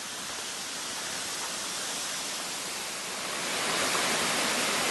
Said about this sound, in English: So the waterfall goes 1, 2, 3, 3 tiers.